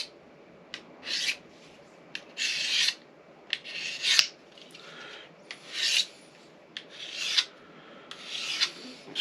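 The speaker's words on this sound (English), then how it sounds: "it's a 400 grit diamond stone and 600 grit" A blade is drawn across a 400 and 600 grit diamond sharpening stone in repeated rasping strokes, roughly one per second, close and crisp, with no speech.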